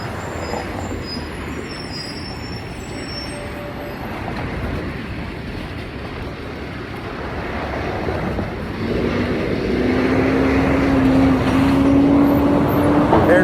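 A trash truck drives by on a street, its low rumbling engine and rolling wheels growing louder toward the end, with a steady whining tone near the close.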